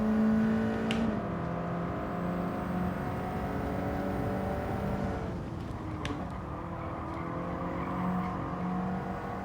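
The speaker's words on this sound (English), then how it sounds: "Drifting through the corner." A race car in Gran Turismo 7 drifts through a corner, its engine holding a steady sustained whine and roar that shifts pitch midway, alone without talk.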